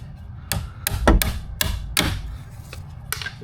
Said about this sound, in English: I'm gonna use a chisel and a hammer, and I'm gonna stick it in that clamp and I'm gonna pop it with the hammer